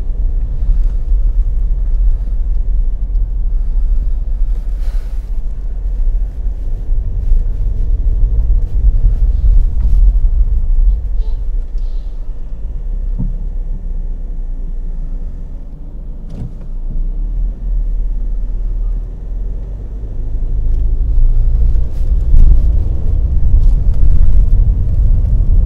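A Ford car with a PowerShift automatic transmission rumbles steadily from inside the cabin, a loud low drone that dips midway and swells again near the end, with faint clicks and knocks over it and no talking.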